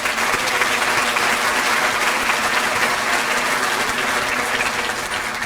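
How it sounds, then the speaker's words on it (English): Sustained, dense applause from a large graduation ceremony crowd at a high school's annual commencement, loud and steady throughout with no talk over it. "so please give yourselves a round of applause."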